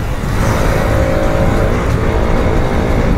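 Two motorcycles in a drag race, a 220 and an RS, roar loudly and steadily at close range with a constant, heavy engine drone and no talking.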